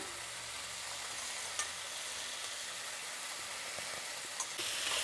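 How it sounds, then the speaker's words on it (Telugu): Raw banana slices frying in a pan, a soft, even sizzle that runs steadily at low volume, with a couple of faint clicks and a slight brightening of the hiss near the end. "ఒక 5 నిమిషాల్లో బాగా వేగిపోతుందండి అరటికాయ అనేది"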